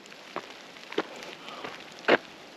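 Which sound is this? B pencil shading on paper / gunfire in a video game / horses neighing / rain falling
rain falling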